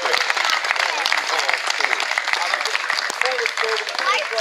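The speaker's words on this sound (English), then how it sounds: "Can we have a round of applause for both sides?" Crowd applause for both teams at a charity rugby match, dense continuous clapping at moderate level with voices mixed in throughout.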